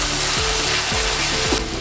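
Dried bamboo shoot sizzles loudly in hot oil in a pan, a steady close frying hiss for a North Eastern fish curry, with faint stirring scrapes and no voices.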